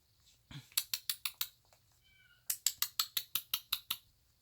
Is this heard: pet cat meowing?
yes